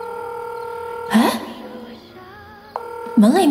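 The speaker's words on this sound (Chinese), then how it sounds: "门里面传出来的铃声" A phone ringtone rings from behind a closed apartment door in a hallway, muffled melodic tones under a steady hum, with brief sounds in between.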